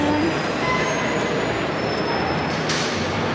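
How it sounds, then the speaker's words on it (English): A train rumbles steadily through Liverpool train station, with a constant roar and a high metallic whine from the wheels. "the Liverpool train station"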